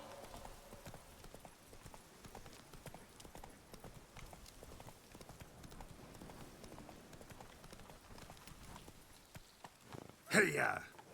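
Horse hooves clip-clop at a walking pace in the video game The Witcher 3: Wild Hunt, quiet and fairly even, over soft background ambience, ending with a brief louder burst.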